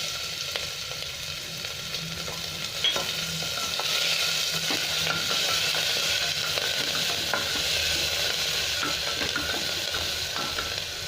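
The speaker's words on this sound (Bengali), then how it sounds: "এক 2 মিনিট ভেজে নেবো পেঁয়াজটা।" Onions frying in a pan with cumin seeds and asafoetida for mixed dal, a continuous close sizzle broken by frequent light scrapes and taps of a stirring spoon.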